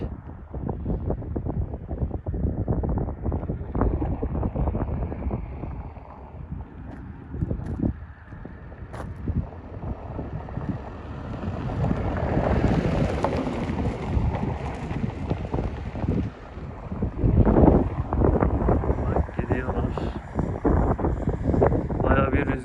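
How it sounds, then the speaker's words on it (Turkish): Wind buffets the microphone continuously, with low rumbling gusts that swell and fade over a long outdoor stretch. "rüzgar da var bu tarafta"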